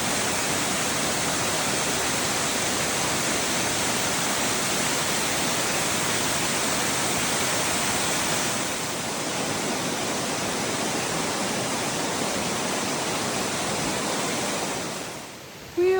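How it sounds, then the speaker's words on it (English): Amicalola Falls in Georgia roars as a steady, broad rush of falling water, loud and close, dipping slightly in the middle before cutting off abruptly at the end. "The highest waterfall east of the Mississippi."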